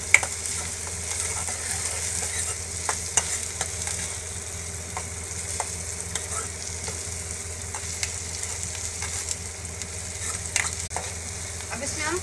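Tomatoes and capsicum sizzle steadily in a pan for Bombay Maggi, a continuous close frying hiss broken by scattered soft clicks of stirring, with no talking.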